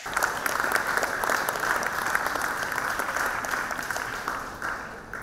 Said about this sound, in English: Let's hear a round of applause for the most illustrious Dr.